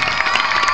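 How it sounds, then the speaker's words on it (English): Crowd applause and cheering for a teacher at a school band performance, a short dense burst of clapping mixed with shouts and children's voices, loud and continuous. "Let's give her a round of applause."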